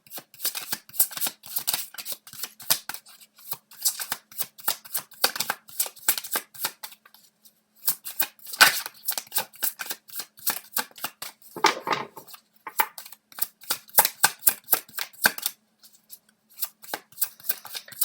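Tarot cards being shuffled up close in quick, papery riffling bursts, repeated again and again with brief pauses between rounds and no talk.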